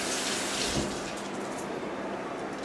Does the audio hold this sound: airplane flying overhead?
no